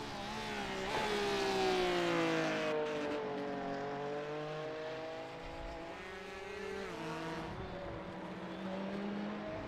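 Porsche GT race cars with boxer engines in iRacing at Interlagos howl past, their high-pitched engine notes rising and falling through gear changes, one car followed closely by another, loud and without speech.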